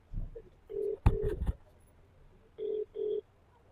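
Phone dialing on loudspeaker for a call, with distinct keypad beeps followed by two ringback tones about half a second each, close and clear over a quiet room.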